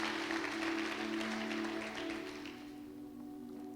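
A church congregation applauds during a worship service, a dense wash of clapping that gradually thins and fades over a steady low tonal hum, heard at a moderate distance.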